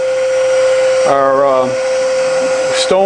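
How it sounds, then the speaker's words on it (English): A surface grinder rough-grinds the reference side of a part held on a magnetic chuck, giving a loud, steady, high-pitched whine that runs the whole time, with a brief murmur of voice partway through. "So it's just going to be a rough grind."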